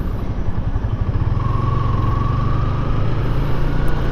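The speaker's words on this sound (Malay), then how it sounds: "Dengar suara motor tu," Motorcycle engine rumbling steadily close by on a road, a continuous loud drone with no talk over it.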